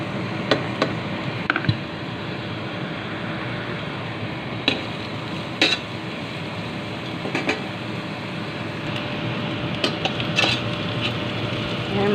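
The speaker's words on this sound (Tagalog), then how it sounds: "dyan mo rin igigisa ang sibuyas," Onion and garlic sauté in oil left over from frying eggplant, with a soft, constant sizzle and occasional light clinks of a utensil against the pan.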